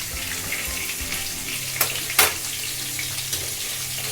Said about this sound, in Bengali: এবার এতে দেবো আলুটাকে আমি একটু লবণ